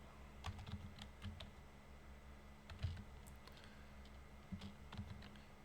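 Fingers type on a computer keyboard in quiet, scattered clicks and short bursts of keystrokes, entering an HTML doctype, close and alone with no voices over it.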